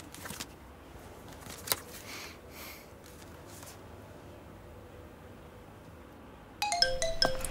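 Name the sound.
phone ringtone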